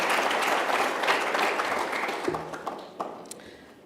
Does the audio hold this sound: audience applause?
yes